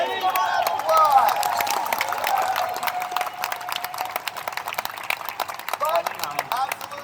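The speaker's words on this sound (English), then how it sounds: "Let's give her an applause." A convention audience at a Halo panel in Orlando claps and cheers for a birthday, a steady wash of applause with voices mixed in throughout.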